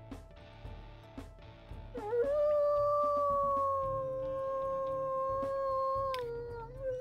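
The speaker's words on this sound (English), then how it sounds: "We'll go ahead and listen to his howls as well." Wolf howls from the WolfQuest video game, a long sustained tonal howl rising after a brief start and holding steady at a high pitch for several seconds, loud and clear over a low background.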